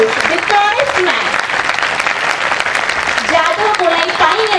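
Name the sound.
applause welcoming Padma Shri Jadav Payeng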